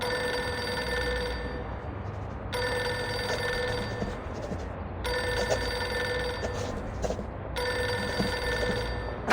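A telephone rings in the video game Reverse 1999, a repeated electronic bell in steady bursts separated by brief gaps, fairly loud with a low background hum.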